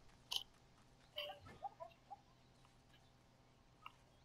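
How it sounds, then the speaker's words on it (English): Short chicken clucks from the Fortnite video game, a few quiet, scattered calls and clicks over a faint background, with no talking. "It's a chicken."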